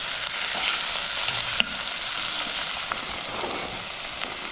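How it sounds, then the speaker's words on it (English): Onion and tomato fry in a pan with a steady, close sizzle, broken by a distinct utensil knock and occasional soft scraping as they are stirred. "So I'll just put my tomato. Then I'll give it a stir."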